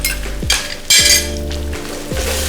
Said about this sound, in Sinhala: ලුණු ටික චුට්ටක් බැදිලා තියෙන්නේ දැන්